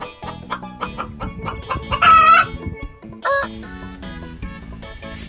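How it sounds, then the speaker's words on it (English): A plastic toy chicken gives a string of close clucks, broken by a loud rooster crow in the middle and a shorter squawk after it, with soft background music and no voices. "Chicken."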